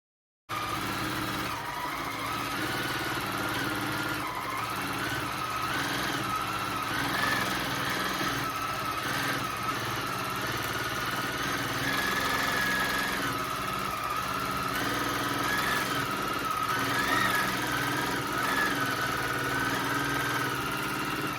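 A longarm quilting machine stitches steadily on a Grace Qzone queen-size frame, a continuous motor hum with a faint rhythmic whir that holds even and close throughout, with no talk.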